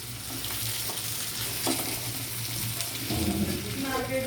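Stuffed brinjal fry being stirred in a pan, a steady sizzle with scraping spoon strokes throughout, growing busier near the end, with no talk.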